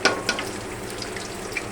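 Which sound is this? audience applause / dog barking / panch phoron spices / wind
panch phoron spices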